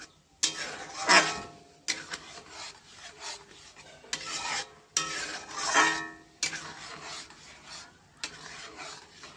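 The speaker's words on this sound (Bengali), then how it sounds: "এবার এটাকে আমি ভালো করে নেড়ে দেবো, যাতে তেঁতুলের কাঠটা পুরোটা সব সাথে" Repeated scraping and rubbing as a spoon stirs a thick homemade mixture with tamarind wood in a pan, in several distinct close strokes separated by short pauses.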